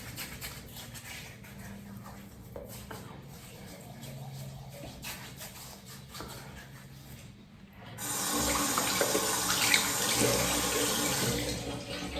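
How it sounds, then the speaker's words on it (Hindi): Tap water runs into a sink while hands are washed during a shaving routine, starting softer then turning into a loud, steady splashing stream for the last few seconds, with no talk. "Let me wash my hand properly"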